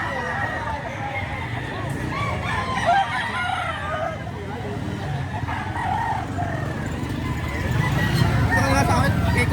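Chickens and roosters at a poultry market in Lipa, Batangas, crowing and clucking over a steady crowd babble, with people talking nearby throughout.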